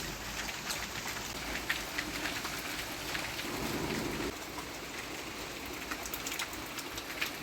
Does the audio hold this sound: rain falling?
yes